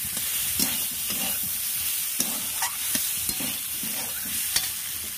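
Soyabean and potato chunks coated in cumin spice paste being stirred in a pan, a steady sizzle broken by scraping strokes of the spoon every second or so, close and alone with no voices.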